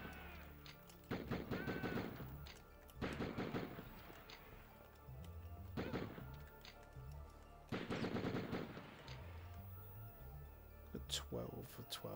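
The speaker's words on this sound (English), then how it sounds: "Good old explosive shotgun again." Explosive shotgun fire in the Die Hard Trilogy video game, repeated loud bursts of gunfire in clusters spaced a couple of seconds apart, with talk heard between and over the shots.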